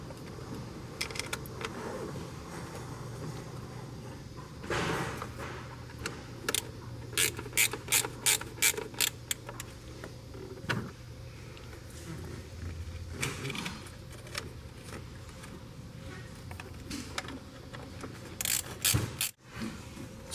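A ratchet tightening thermostat housing bolts on a Land Rover LR3, producing scattered bursts of quick clicking, one clear run of evenly spaced clicks midway, over faint background noise, with no speech.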